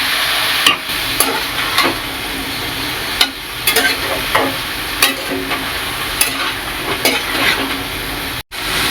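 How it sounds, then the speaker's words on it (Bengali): Ground poppy seed paste fries in a pan while it is stirred, while pumpkin greens chorchori is being cooked. A loud, steady sizzle runs throughout, broken by repeated scraping strokes of the spoon against the pan. "এবার দিয়ে দেবো পোস্ত বাটা।"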